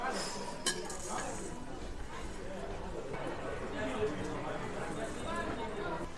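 Dishes and utensils clinking while matki bhel is mixed at a roadside eatery in Bopdev Ghat, Pune: scattered light clinks and scraping over continuous chatter and talk nearby.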